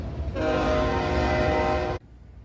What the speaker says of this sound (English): We got a train coming by.